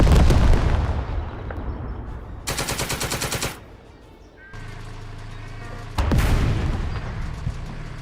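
Bursts of gunfire in the hex-based squad tactics video game Second Front, with a rapid rattling volley in the middle and further loud crackling shots and booming impacts around it, no talk.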